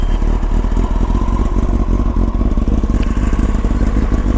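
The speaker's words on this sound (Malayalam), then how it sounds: "ഞാൻ എന്തായാലും ജസ്റ്റ് ഒന്ന് എക്സോസ് നോട്ട് ഒന്ന് കേൾപ്പിച്ച് തരാം." A 2021 Kawasaki Ninja ZX-10R with its catalytic converter changed idles close by, its exhaust making a loud, steady, throbbing burble with a rapid, even pulse and no voices.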